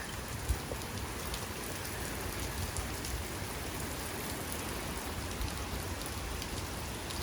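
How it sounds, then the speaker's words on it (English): Heavy rain pours down steadily, a dense, even hiss of drops hitting surfaces with no letup. "It's been raining like crazy out here."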